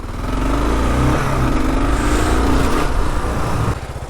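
A 2022 Kawasaki KLR650 ABS motorcycle engine runs loud and close at a steady idle-to-low rumble while the bike turns tightly, with a slight drop in level near the end.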